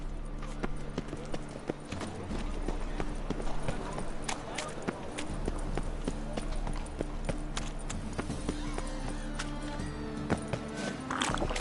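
Horse hooves clip-clop in a PS4 video game, a steady rhythmic trot running throughout beneath game music and sound effects, with speech over the top.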